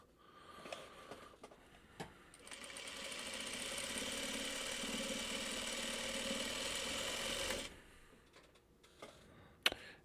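A sewing machine runs steadily for about five seconds as it stitches fabric, loud and close, with a few soft handling clicks and knocks before and after.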